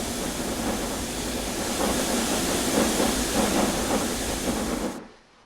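A train in the video game Transport Fever 2 rumbles along with a broad, steady hiss and rolling mechanical noise at a constant level, then cuts abruptly to near silence at the end.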